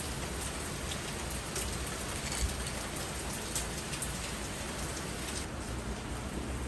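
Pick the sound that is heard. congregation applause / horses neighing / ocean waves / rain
rain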